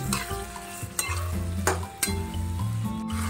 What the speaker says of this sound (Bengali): এরপর আমি একটু হালকা হালকা আছে নাড়াচাড়া করব।